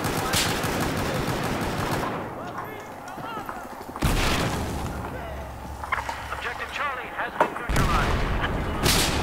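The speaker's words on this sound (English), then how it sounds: "there's that infamous shotgun that's every aggressive recon's worst nightmare" Heavy booming shotgun blasts during a 64-player Large Conquest match on Zavod 311 in Battlefield 4, several loud reports spaced seconds apart over constant battle noise, with a voice talking between them.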